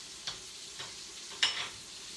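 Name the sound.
whisking butter and heavy cream in a sizzling pan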